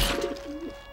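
A dove coos inside a room in the Team Fortress 2 video game, a short, soft, low warbling call rising and falling twice within about a second over faint background hum.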